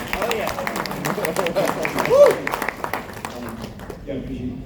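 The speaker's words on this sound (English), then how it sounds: "You want to clap?" A Comic Con crowd at a live drawing panel breaks into loose clapping mixed with cheers and chatter, fairly close, tapering off near the end.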